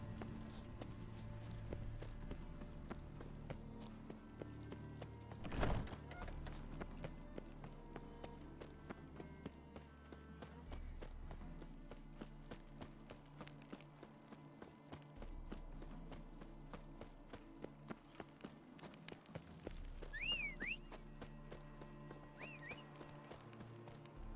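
Roach, Geralt's horse in The Witcher 3, clip-clopping along at a steady walking rhythm for a long stretch, hooves fairly close over quiet ambient game music, with a brief loud thump partway through.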